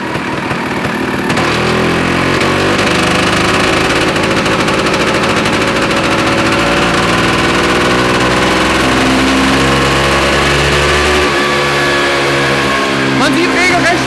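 A small scooter engine runs loud and uneven on a dyno, rough at mid-throttle slide position, its pitch wavering and stuttering with a rough, sputtering rhythm that drops and surges near the end.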